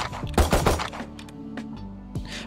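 A Kayo flashbang in Valorant goes off as a cluster of sharp, punchy thunks and cracks close together, then a few softer clicks and a faint trailing whoosh.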